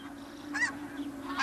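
Snow geese honk twice as they land inside the Arctic Circle, two nasal calls separated by a short gap, clear over a steady low background hum.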